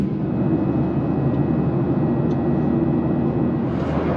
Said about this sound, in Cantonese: 啲飛機排住隊等起飛啊！